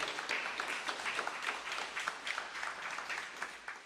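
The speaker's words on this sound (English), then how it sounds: "Give Carl a big round of applause." An audience at a city hall gathering gives a round of applause for an honoured contributor, steady, somewhat distant clapping that holds evenly for several seconds.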